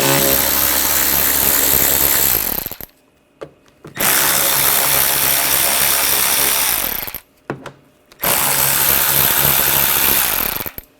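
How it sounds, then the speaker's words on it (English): A power tool with an 8mm socket backs screws out of the bumper of a 2007–2013 BMW X5, three long loud whirring runs separated by short pauses and small clicks. "Take these screws out. We're going to use a 8mm socket."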